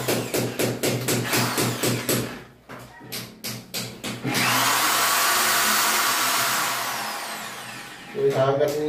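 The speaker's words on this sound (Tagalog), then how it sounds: "Gamit tayo yung barena." A power drill bores into a wall while a shower heater is being installed, heard first as a series of short stuttering bursts and then as one long steady whine, loud and close.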